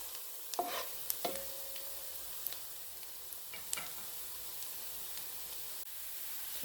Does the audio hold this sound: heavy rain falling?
no